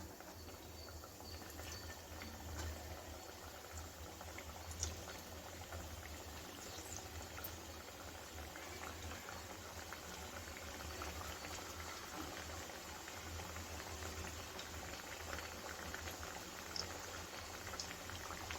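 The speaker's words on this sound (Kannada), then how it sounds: "ಈಗ ಅದೇ ರೀತಿ ಸೆಕೆಂಡ್ ಬ್ಯಾಚನ್ನು ಹಾಕೊಂಡು ಫ್ರೈ ಮಾಡ್ಕೊಳ್ತಾ ಇದ್ದೀನಿ." Second batch of crisp wheat flour and sugar-milk biscuits deep frying in hot oil, a steady dense sizzle and bubbling that holds evenly throughout with small pops scattered across it, no talking.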